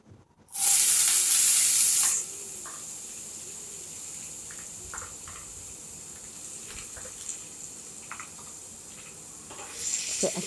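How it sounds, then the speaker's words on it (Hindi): Finely chopped onions hit hot oil in a pan for Matar Ghugni with a loud burst of sizzling, then settle into a steady fainter frying hiss with occasional stirring scrapes and clinks. "एक बार चला लूँगी, ये बारीक कटी हुई प्याज"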